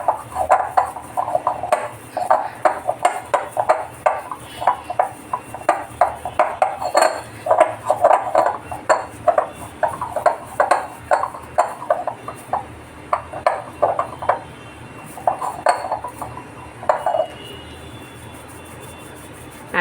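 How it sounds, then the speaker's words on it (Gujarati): Semolina puri dough kneaded by hand in a metal vessel, a fast run of rhythmic slapping and clanking thumps against the metal that stops near the end, close and fairly loud with no talk. "હવે હું આને ત્યાં સુધી કૂણવીશ જ્યાં સુધી હાથને ચીટકતું બંધ થઈ જશે"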